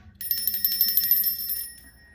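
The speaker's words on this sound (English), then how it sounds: "Wake up, the alarm's going off." An alarm rings in a rapid trill of bright, bell-like pulses for about a second and a half, then fades out.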